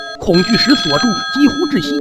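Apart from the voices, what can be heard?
telephone bell ringing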